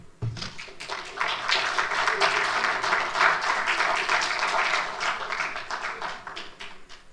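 Audience at an engineers' week debate gives the debaters a resounding round of applause, a dense, sustained crowd clapping that swells quickly and holds at full volume before easing slightly toward the end.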